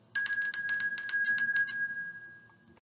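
A bell rings in a rapid series of bright, tinkling strikes with a steady high tone, fairly close and clear, then fades out alone with no talk over it.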